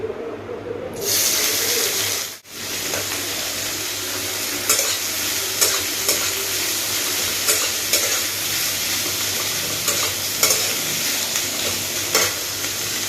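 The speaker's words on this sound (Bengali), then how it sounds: "তো সেই জন্য আমি পেঁয়াজ লঙ্কাটা ভেজে নিচ্ছি" Onion and chili fry in a little oil in a home kitchen pan, giving a continuous sizzle under a stirring utensil that scrapes and taps now and then. A brief dip near the start breaks the steady frying.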